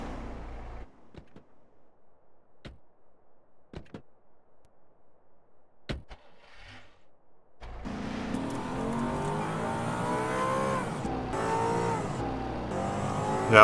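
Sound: glitched car engine sound in GTA roleplay video game

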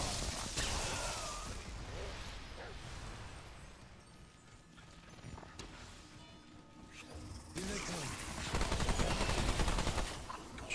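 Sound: gunfire from the video game Remnant 2

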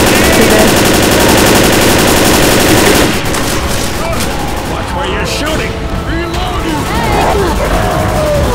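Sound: gunfire in Left 4 Dead video game

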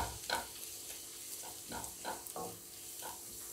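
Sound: sautéing ingredients in a pan for egg curry

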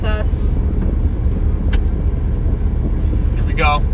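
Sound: pickup truck driving

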